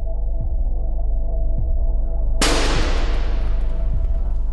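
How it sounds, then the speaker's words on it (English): A single loud, crashing metallic impact rings out as a 5 kg ball falls 2 metres onto a 0.4 mm thin stainless steel sheet, tearing it from its supports. The crash decays over a steady background hum with faint periodic thumps. "A ball weighing 5 kilograms is dropped from a height of 2 meters."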